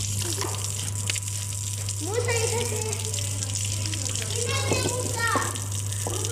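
A small child splashes and plays in water, with bursts of splashing and excited child vocalizations over a steady low hum, close and moderately loud.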